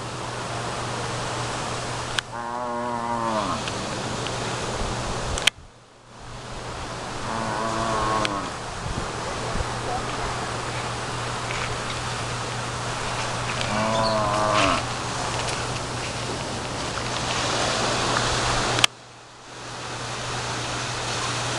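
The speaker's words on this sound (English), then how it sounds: "we have a rogue cow wandering the beach" A cow mooing on a beach, several drawn-out moos spread across the clip over steady wind and surf noise, with no talk.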